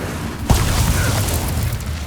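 Casting the Incendio fire spell in Hogwarts Legacy gives one sharp, punchy burst followed by a short low rumbling tail, heard over steady game background.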